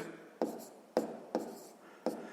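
Pen or pencil writing numbers by hand on paper during a sixth-grade maths exercise, four quiet separate scratchy strokes at irregular intervals, close and faint, with no talking.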